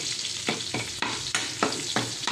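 Garlic fries in a pan with a soft sizzle, broken by several sharp stirring scrapes at a fairly regular pace, close and fairly quiet.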